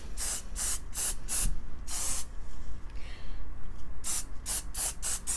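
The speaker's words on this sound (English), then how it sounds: "I'm gonna spray this part right here" Apple Garde protector sprayed onto a Louis Vuitton bag in a series of short, sharp aerosol bursts, several quick hisses in a row, a longer one, then another rapid cluster, close and alone.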